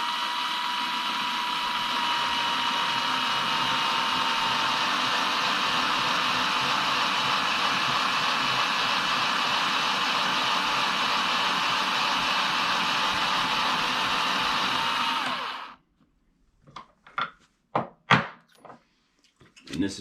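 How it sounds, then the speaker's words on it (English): An L.E. Wilson case trimmer cuts new rifle brass to length with a steady, close whirring grind for about fifteen seconds. It stops abruptly and is followed by a few sharp clicks and knocks as the case is handled. "We're going to use the L.E. Wilson trimmer"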